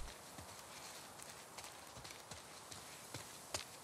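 Horse hooves clip-clop at a steady walking pace in The Last of Us video game, faint and distant over a low background hum, with no talking.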